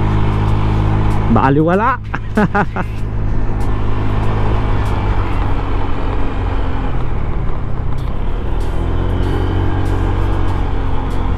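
A 125cc scooter engine, either a 2021 Honda Click 125i or a Yamaha M3 125i, drones steadily and loudly as it climbs a very steep hill. Someone speaks briefly over it near the start.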